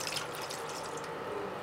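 Water pours steadily into a pan on a stove while preparing a lemon home remedy, a continuous broadband splashing rush at low level with no speech.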